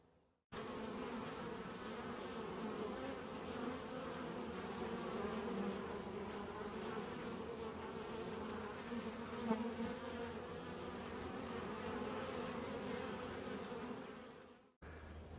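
Honey bees buzz at a hive entrance as foragers carry pollen in, making a dense, steady hum of many insects that stays close and even throughout.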